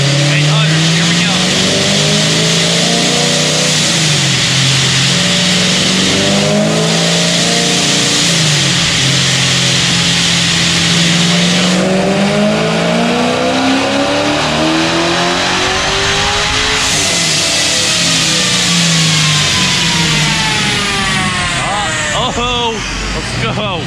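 A tuned car engine roars close and very loud on a dyno, running through long rising pulls in repeated sweeps from low rumble to high wail, with a sharp drop between runs, while people talk and cheer over it.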